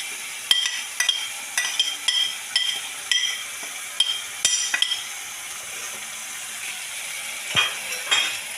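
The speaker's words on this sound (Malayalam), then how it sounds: "എന്നിട്ട് നന്നായിട്ട് ഇളക്കി കൊടുക്കാം." Dried prawn chutney stirred in a pan, with a spoon scraping and clinking against the metal in a rapid, regular rhythm over a soft frying sizzle, close and distinct, with a pause before a last few strokes.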